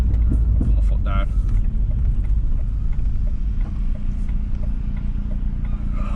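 A cold Vauxhall Astra H VXR engine with its crossover pipe deleted rumbles loud and close at idle, with a brief turbo whoosh early on over the deep, steady drone.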